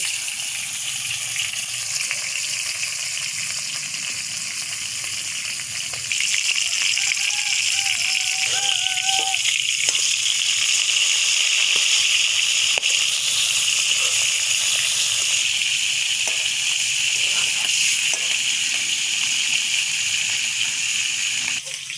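Chicken pieces fry in hot oil with a dense, continuous hiss and bubbling that holds steady and loud for the whole stretch, with a brief clink of utensils early on and no talking.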